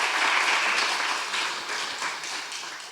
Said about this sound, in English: I'd like to thank the two of them give them a massive round of applause